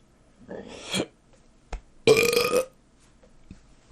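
A person lets out two loud, close burps a second or so apart in a podcast setting, with a few faint clicks in between and no talking.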